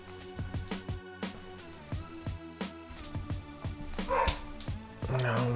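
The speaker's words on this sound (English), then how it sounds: "we got a dog barking in the background" A dog barking repeatedly in a home background, a rapid series of sharp barks and yips coming in bursts at moderate distance, with some muffled noise near the end.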